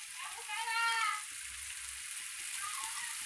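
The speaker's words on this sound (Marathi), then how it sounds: "चांगलं तेलात फ्राय करा." A ground paste of coriander, ginger and garlic fries in hot oil, giving a steady close sizzle with a brief louder crackling swell early on, and no one speaks.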